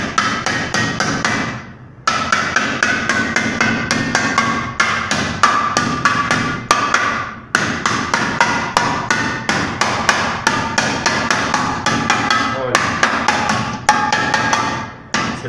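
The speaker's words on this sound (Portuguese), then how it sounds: "Vai batendo bem devagarzinho pra ela não afundar muito." Hammer gently tapping dents out of an old metal kettle, a long steady series of light, closely spaced metallic taps with a few brief pauses, close and clear with no talking.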